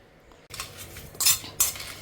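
Spices, dried chilies and coconut are dry-roasted without oil in a heated kadai for Chettinad mushroom gravy, with light clinks and scrapes of the spoon against the metal after a short quiet start.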